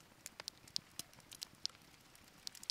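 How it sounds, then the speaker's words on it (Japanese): Scattered rain patters at a campsite in Togakushi at night, sharp drops ticking irregularly on a nearby surface, some louder and closer, over a quiet background with no talk. "あ、雨だ"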